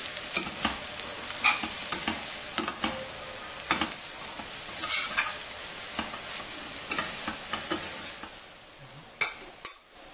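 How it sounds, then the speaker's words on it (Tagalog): Fermented mustard greens being stirred in a sizzling pan, with a steady fry under repeated scraping and clinking strokes of a utensil against the pan, close and alone. "haluin natin siya, ganyan, para mag-mix siya"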